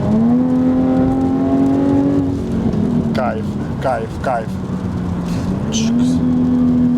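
A 2018 Jaguar F-Type engine drones and revs, with short exhaust burbles and pops at gear changes, while someone speaks excitedly over it.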